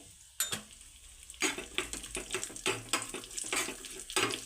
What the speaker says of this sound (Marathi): हलक्या रंगावरती आपल्याला यांना तळून घ्यायचं आहे